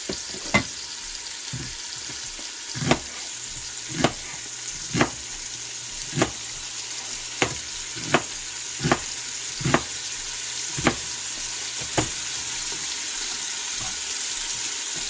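Bacon frying and being stirred in a pan, a constant close sizzle broken by a dozen sharp scraping clicks of the utensil against the pan at irregular intervals, with no talk.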